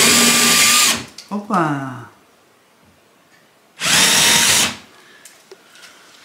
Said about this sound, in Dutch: Even gaatjes boren, hè?